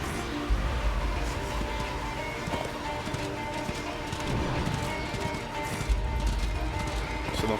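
In the video game Darksiders 2, the horse Despair gallops with rapid, continuous clip-clop hoofbeats over a busy layer of game sound and music, moderately loud throughout.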